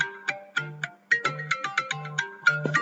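A small mobile phone plays a melodic electronic ringtone, a quick run of bright plucked notes over a steady low pulse, close and fairly loud with no talking.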